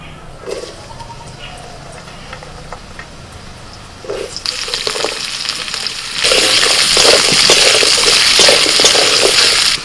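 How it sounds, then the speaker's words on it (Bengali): Thin strips of potato hit hot oil left from frying fish, the sizzle starting soft and patchy, jumping louder around four seconds, then swelling into a loud, continuous crackle after six seconds. "মাছ ভাজার তেলের মধ্যে দিয়ে দিচ্ছি সরু সরু করে আলু কাটা।"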